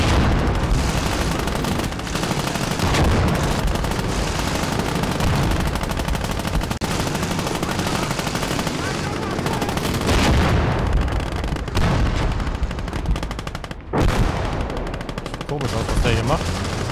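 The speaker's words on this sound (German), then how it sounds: "Was gibt's denn Schöneres als so eine schöne Explosion dabei einfach?" Gunfire and explosions from the World War II strategy game Gates of Hell: Liberation fill the clip nonstop with dense, loud machine-gun bursts, rifle shots and booming blasts layered into a continuous battle din.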